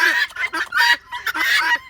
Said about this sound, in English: These birds that yap all day long.